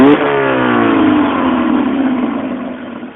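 A Mazda 1.8 liter engine with a stumbling idle revs up loudly and then slowly winds down, its pitch sliding lower as it settles toward a steady idle.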